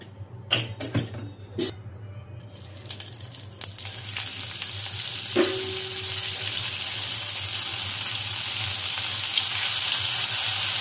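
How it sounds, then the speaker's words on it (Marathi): Butter and oil heating in a hot kadai, starting with a few clinks and knocks, then building into a loud, steady sizzle that grows stronger and continues to the end. "कढई गरम झालेली आहे, पण तेल ऍड करूया थोडंसं, म्हणजे आपलं बटर जळणार नाही"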